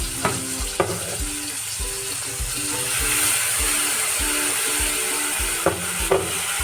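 Ginger garlic paste fries in a pan with a constant sizzle while a spatula scrapes and stirs in repeated rhythmic strokes, with a few sharper knocks against the pan.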